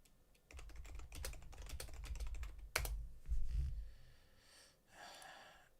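Rapid clattering keystrokes on a computer keyboard, fairly close and steady, with a sharper burst near the middle and a faint breathy sound at the end.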